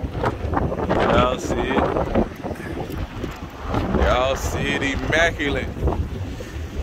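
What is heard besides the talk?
wind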